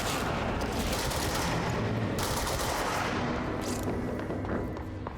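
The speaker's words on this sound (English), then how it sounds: "Someone's shooting rockets at me, man." Rockets fired at the player in the video game Control, a dense barrage of loud blasts and gunfire-like bursts rolling continuously through the whole stretch, with no break in the noise.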